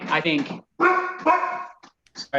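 A household dog barks in a few short, sharp bursts near the end, just after a person speaking close by.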